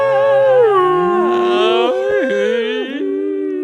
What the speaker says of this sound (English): Dogs everywhere going insane.